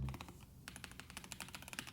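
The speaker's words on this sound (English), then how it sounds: "Let's do some test typing." Test typing on a budget keyboard bought from Temu, a quick, steady run of close, crisp keystroke clicks with a plush, muted tone, with no talk.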